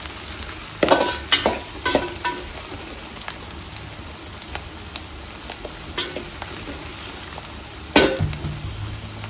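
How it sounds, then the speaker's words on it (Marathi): Onion sautés in hot oil in a pan over a high flame, giving a constant close sizzle broken by sharper scraping and clinking stir strokes. "तेलामध्ये कांदा टाकत आहे. व्यवस्थित असा कांदा परतून घ्यायचा आहे."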